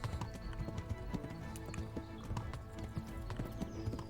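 A horse's hooves clatter at a steady, quick pace in the video game Kingdom Come: Deliverance, with dense, continuous hoofbeats up close.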